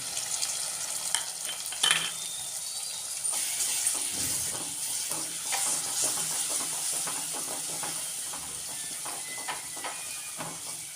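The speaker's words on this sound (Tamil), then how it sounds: "வெங்காயம் தக்காளி எல்லாம் நல்லா வதங்கிடுது" Onions and tomatoes sauté steadily in a pan for fish curry, a close, continuous sizzle and frying hiss with occasional stirring scrapes throughout, no talking.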